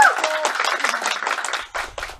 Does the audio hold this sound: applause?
yes